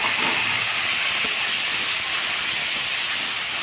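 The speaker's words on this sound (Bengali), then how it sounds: "এখন আমি পেঁয়াজটা ভাজা করার জন্য কড়াইতে দিয়ে দেবো।" Onions frying in hot oil in a wok for a Bengali lota fish curry, giving a steady, loud hiss and sizzle that holds evenly throughout with no talking.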